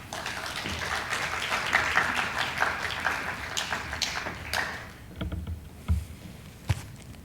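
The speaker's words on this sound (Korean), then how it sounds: "우리 강사님 나오실 때 큰 환영의 박수 부탁드립니다." A church congregation at a youth retreat service welcomes a guest speaker with applause, a steady crowd of clapping that thins out into a few scattered claps and footsteps.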